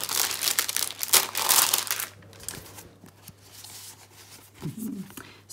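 Diamond painting sticker sheets being handled and peeled, giving loud crinkling and crackling plastic rustles in bursts up close, then quieter rustling with a brief low thump near the end.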